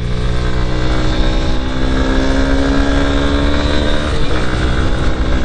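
A Honda Hornet 2.0 naked motorcycle is ridden and gives a loud, continuous engine drone with rising and falling pitch and steady wind rush, and no voices.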